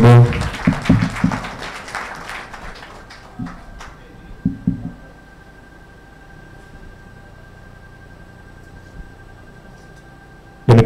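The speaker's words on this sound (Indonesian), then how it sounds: "Boleh kita berikan tepuk tangan Bapak Ibu" An audience at a bank merger ceremony claps in a short burst of applause at the start, then it thins to scattered claps and fades into quiet room noise.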